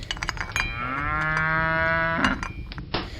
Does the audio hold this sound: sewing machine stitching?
no